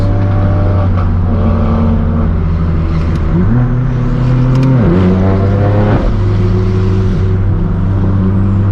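A straight-piped BMW M4 F82 and other cars at a hypercar rally, a loud steady engine drone with rising and falling revs and a burst of acceleration, exhaust crackle not clearly distinct.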